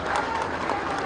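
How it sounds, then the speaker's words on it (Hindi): Crowd applause at a BJP political rally welcoming new party members in Bihar, a steady broadband wash of many hands clapping, fairly loud and continuous through the short moment. "साथियों, एक बार जोरदार ताली बजाकर सबका स्वागत कीजिए।"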